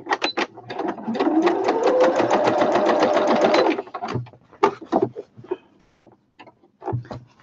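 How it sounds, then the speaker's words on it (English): Sewing machine stitching a snippet basket on a sewing runner, a fast steady whirring burst of about three seconds, then scattered clicks, thumps and handling noises, close up. "Now I should be able to sew that all the way over there."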